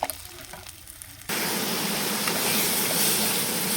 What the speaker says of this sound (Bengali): দিয়ে এটাকে ভালোভাবে মশলাটাকে কষিয়ে নেব।